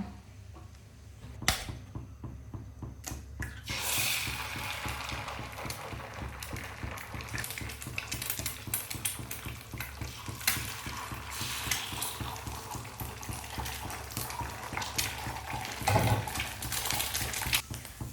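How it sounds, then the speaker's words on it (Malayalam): An egg fries and is scrambled in a pan in an African home kitchen, giving a steady low sizzle with repeated scraping and tapping of the utensil against the pan, heard close and fairly quiet throughout with no talk. "ഞാൻ ഒരു മുട്ട കൂടി പൊരിച്ചിട്ട് ഇങ്ങനെ ചിക്കി എടുക്കൂല"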